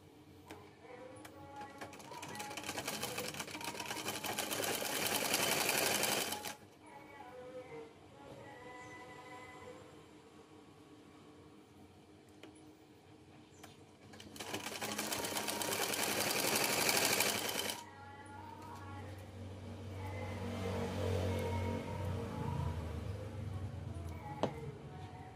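Sewing machine stitching a 3D cloth face mask, steady mechanical whirring in two close runs separated by quieter handling, alone without talk.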